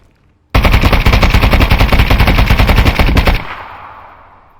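Full-auto weapon fire in the video game Contractors Exfil Zone, one loud rapid burst lasting about three seconds, then a fading echoing tail.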